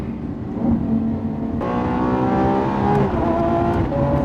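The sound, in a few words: Lamborghini Urus hybrid engine and paddle gear shifts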